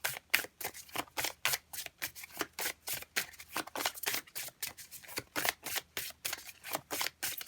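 Oracle cards shuffled by hand for a tarot reading, a close, crisp run of rapid riffling bursts repeating in a steady rhythm with brief gaps between, no talking.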